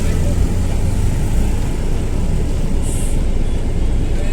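Busy road traffic at a congested junction in Kampala during school closing time, with boda motorbikes about: a dense, continuous rumble of engines close by, loud and unbroken, with a brief higher whine partway through.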